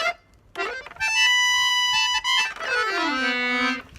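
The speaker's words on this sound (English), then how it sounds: "I have bought my piano accordion" Piano accordion played on its piano-style treble keys: sustained reedy chords and a melodic run, with steady bellows-driven tone, close and fairly loud, no voices.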